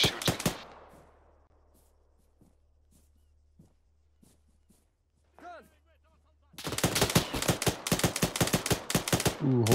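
Gunfire in the military shooter Arma 3 during a co-op mission: a burst of shots at the start, scattered faint distant reports, then a dense, loud volley of rapid automatic fire in the final seconds, with brief voice chatter in between.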